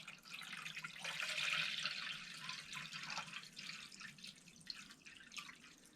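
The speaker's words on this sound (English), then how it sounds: "fill this up with water" Tap water runs into a jug for cleaning brass cartridge cases, a steady close hiss of pouring that swells briefly and then settles into softer trickling.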